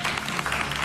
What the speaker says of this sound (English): A big round of applause to Matt.